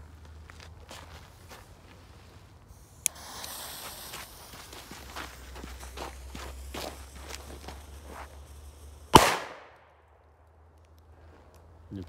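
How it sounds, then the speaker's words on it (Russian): A PP3 firecracker goes off with one sharp, loud bang that decays quickly into quiet, preceded by footsteps and faint shuffling outdoors. "Ну, теперь перейдем к нашим петардам. Погнали. Первая PP3."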